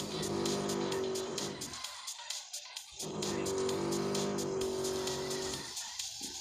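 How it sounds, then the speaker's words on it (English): Fast car driven in the mobile game Smashy Road: Wanted 2, with a loud, steady synthetic engine drone and tire squeal that cut out briefly twice, then resume. "the car is pretty fast"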